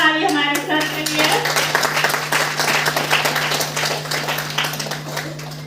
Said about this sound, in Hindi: एक जबरदस्त ताली हमारे सर के लिए